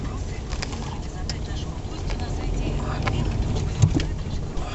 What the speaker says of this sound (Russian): Сейчас он газанет.